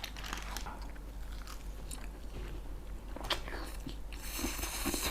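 Crisp pork cracklings crunch and are chewed close to the microphone in a run of irregular bites over a constant low hum.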